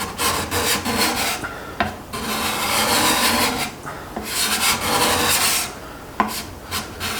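An Accu-Burr burnished card scraper is drawn across wood, taking shavings in repeated close, raspy strokes with brief pauses between passes.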